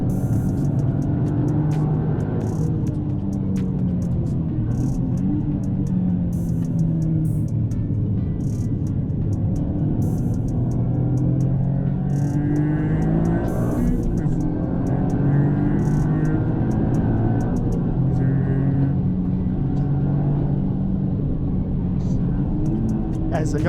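Toyota GR Yaris driving on a race track, its engine a steady loud rumble with shifting tones throughout, heard from inside the car with no pauses.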